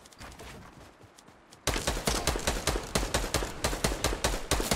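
Rapid bursts of gunfire in the video game Fortnite, loud and close, with a quieter stretch followed by a steady barrage of sharp, repeated shots.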